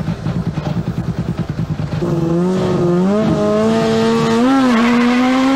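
A rally car idles with a lumpy burble at the start of a special stage at the 2002 Rallye du Mont-Blanc, then revs hard and accelerates away, engine pitch climbing loudly through the gears.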